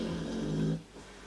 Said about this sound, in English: My dog's asleep on my bed, by the way, so if you hear any snoring, that is her.